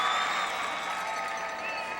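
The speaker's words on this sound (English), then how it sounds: "the crowd starts to make a little noise on the far side" A football stadium crowd at a college game murmurs and stirs faintly from the far side, a soft, distant wash of noise with a little scattered clapping.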